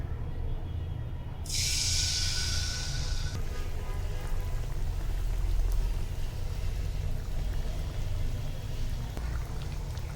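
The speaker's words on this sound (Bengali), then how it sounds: "দেখুন বন্ধুরা, আমাদের তেল গরম হয়ে গিয়েছে। এবার গোলাটি তেলের উপরে দিয়ে ভেজে নিতে হবে।" Pitha dough ball dropped into hot oil, bursting into a loud bright sizzle that fades to a steady crackling fry close by.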